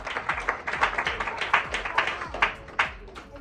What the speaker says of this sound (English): Can someone please clap for the parents?